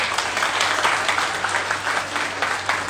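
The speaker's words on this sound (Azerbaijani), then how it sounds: "Bir dənə gürültülü alqışlar gəlsin." An audience at a live show breaks into loud, sustained applause, dense rapid clapping that stays strong from start to finish with no talking over it.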